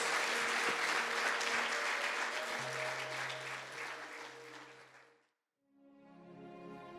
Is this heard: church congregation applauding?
yes